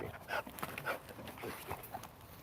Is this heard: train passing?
no